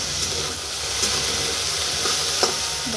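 Okra and potato pieces frying in oil in a kadai give a steady, close sizzle with soft stirring scrapes and a brief louder clack near the end.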